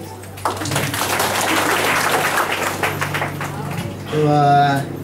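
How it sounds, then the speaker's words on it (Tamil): Audience applause fills a hospital event hall, a dense, steady wash of clapping from a crowd that carries on evenly, with a voice starting to speak over it near the end. "ஒவ்வொருத்தருக்கும் என்னுடைய கைத்தட்டு."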